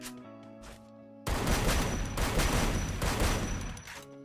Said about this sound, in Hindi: यहाँ पे पीछे से कोई बंदा मेरे पे फायर कर रहा है भाई